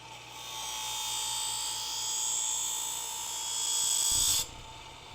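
A blade of upholstery scissors is honed with a steady, close, high whirring grind that holds for about four seconds and then cuts off abruptly.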